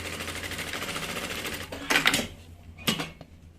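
A domestic sewing machine runs in a steady continuous whir while stitching a fabric bag strap, then breaks into short bursts with brief pauses, close and fairly loud.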